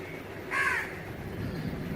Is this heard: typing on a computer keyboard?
no